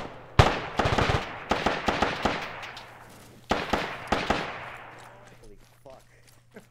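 Game gunfire in a G.I.-themed shooter: sharp bursts of shots in quick clusters, loud and close, with a pause and then another volley before it fades into echoing tails, over a steady low hum.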